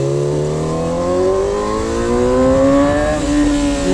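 A Yamaha R6 sport motorcycle's engine revs and pulls, its loud, close, high-pitched whine climbing steadily in pitch through the gears with no talking.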